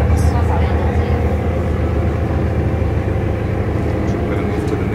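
A Mercedes-Benz O530 Citaro city bus engine runs steadily, a deep continuous rumble with a broad hum, loud and close throughout.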